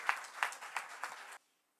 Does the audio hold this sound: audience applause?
yes